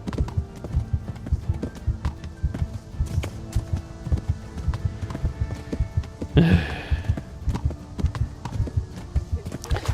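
Rhythmic clip-clop of horse hooves in the video game Kingdom Come: Deliverance pounds steadily at a quick gait, close and continuous, with a brief whinny-like burst midway.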